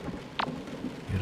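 Steady rain falls outside in the horror dating game Sucker for Love, with a brief thunder rumble near the end and a sharp crack partway through; no voices.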